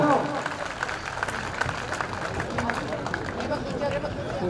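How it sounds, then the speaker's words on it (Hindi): Applause from the audience at a district-level community talent award ceremony, steady clapping mixed with crowd chatter and babble throughout, at moderate distance. "तो इनको तालियों से तो मालामाल कर दो।"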